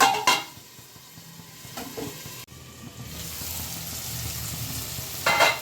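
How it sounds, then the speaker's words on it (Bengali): Potatoes frying in a covered pan over a medium gas flame give a steady, close sizzle with a few brief clatters and a sharp break partway, no talking. "2 মিনিট ঢেকে দিচ্ছি, তাহলে আলুটা ভাজা হয়ে যাবে।"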